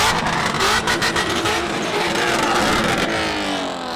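Loud, dense roar of swapped BMW drift cars at a drift event, including a 1100-horsepower M3, a continuous wall of engine noise with revving swells and no talking.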